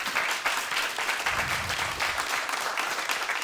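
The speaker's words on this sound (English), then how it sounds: "and if you would join me in giving Michael a great round of applause for his time and his insights." Audience applause after a guest speaker's talk at a university media-business event, a steady dense patter of many hands clapping without a break.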